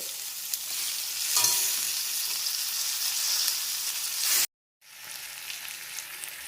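Half a kilo of chicken frying in spice-coated oil in a kadai gives a loud, steady broadband sizzle with occasional stirring scrapes, cutting out abruptly for a moment before resuming.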